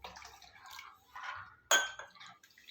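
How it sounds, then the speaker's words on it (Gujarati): Water trickles into gram flour (besan) batter being thinned for a curry, with faint intermittent liquid noise and a sharp clink of a utensil against the bowl partway through, quiet overall. "આમાં થોડુંક આપણે હજી પાણી ઉમેરીશું"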